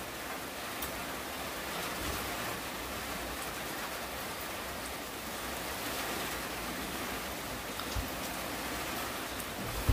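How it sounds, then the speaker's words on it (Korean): Steady rain falls during a typhoon, an even, continuous hiss with no voices and no breaks. "오늘 이렇게 비가 오고"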